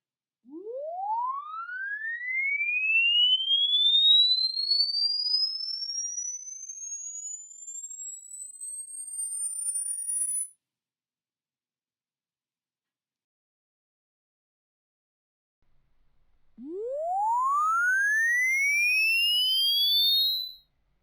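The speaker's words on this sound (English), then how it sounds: "I'll play a sinusoidal sweep of frequencies from 200 Hz to about 10 kHz" Pure sinusoidal tone sweeping smoothly upward from about 200 Hz to around 10 kHz, cut off abruptly partway, then after several seconds of silence another upward sweep that folds back down near its top.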